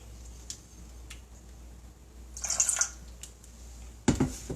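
A small amount of Alfredo sauce goes into a pan with a brief, wet, slurpy plop up close, after a short liquid splash, over quiet kitchen background with no talking.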